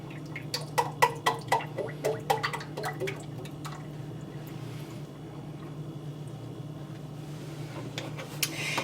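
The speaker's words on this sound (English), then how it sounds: "I have a quart of heavy cream. I'm going to add that in and get it started heating up along with the butter." Heavy cream poured into a pot of melting butter for Alfredo sauce: a run of wet drips and splashes for about three seconds, then a quieter steady background with a low hum.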